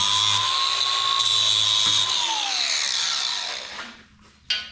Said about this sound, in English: Gotta grind this up good.